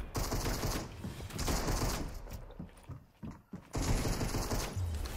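Bursts of gunfire in Fortnite, rapid close volleys of shots that cut out into a short quiet gap with a few scattered pops, then resume in another dense burst.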